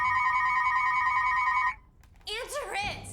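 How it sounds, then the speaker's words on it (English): A telephone rings with a steady electronic double-tone bell for over a second, stops, and then a voice speaks with a wavering, warbling quality. "The phone rings, and Bestie 2 answers it."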